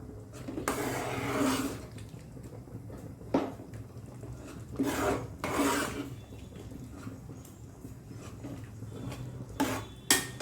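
Boiled potatoes being mashed in a pot of aloo curry, heard as a few separate scraping, knocking strokes of a utensil against the pan with quiet pauses between them.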